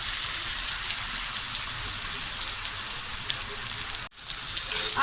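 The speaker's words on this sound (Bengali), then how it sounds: "আলুটা মোটামুটি ভাজা হয়ে গেছে, আর একটু ভাজবো" Potato pieces fry in oil in a pan with a dense, steady sizzling hiss that drops out briefly near the end before resuming.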